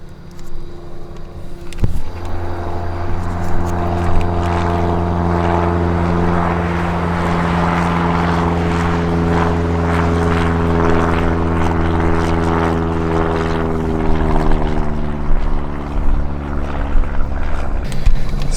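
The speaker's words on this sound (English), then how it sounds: "oh, there's a little plane there" A small propeller airplane drones overhead on an overcast day, a loud steady engine hum with a slowly shifting pitch that holds for the whole stretch, with no talk.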